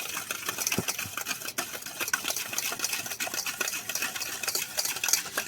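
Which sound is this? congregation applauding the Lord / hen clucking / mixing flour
mixing flour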